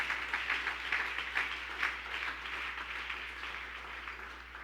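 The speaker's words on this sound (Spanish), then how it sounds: "Dele ese aplauso al Rey de la Gloria bien fuerte." A church congregation applauding for the Lord, a dense roomful of clapping with rhythmic peaks early on that gradually settles into a softer steady patter, with a low hum beneath.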